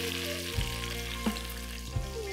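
Cumin, finely chopped tomato and onion fry in hot oil for a broad bean gravy, a steady sizzle under a low hum, broken by three light clinks or stirs.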